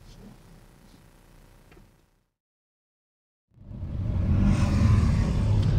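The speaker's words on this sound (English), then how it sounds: "we're going to fire it up and go for a drive" A Ford ambulance conversion van rumbles to life after a short quiet gap, its engine note rising loud and close as it settles into a steady running drone.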